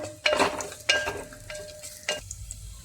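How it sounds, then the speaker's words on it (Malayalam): Garlic dropped into a hot pan for chakka theeyal, with a soft sizzle under several distinct scraping stirs of a spoon against the pan, close and fairly quiet. "ഇനി നമുക്കതിലേക്ക് വെളുത്തുള്ളി ഇട്ട് കൊടുക്കാം"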